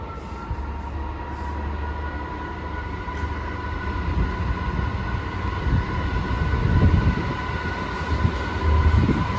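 A Class 756 train at Ashford International station, a steady rumble of rolling wheels and a droning motor that grows slightly louder toward the end, with some clanks and no talking.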